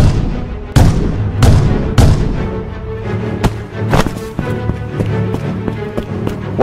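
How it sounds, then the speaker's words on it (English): A cannon fires repeatedly in the Fun with Ragdolls video game, sharp loud booms at irregular intervals, a few heavy blasts early followed by lighter thuds and impacts. "There's a cannon here."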